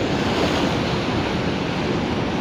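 Surf breaking on Hopton on Sea beach under a stiff northwesterly wind, a steady loud roar of waves and gusty wind noise filling the whole stretch with no voices.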